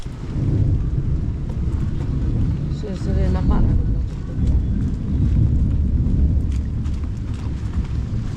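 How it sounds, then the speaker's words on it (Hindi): Rain falls with rumbling thunder outdoors, a dense low roar with rolling booms that is loud and continuous, while someone talks over it. "देखते हैं बारिश दोस्तों।"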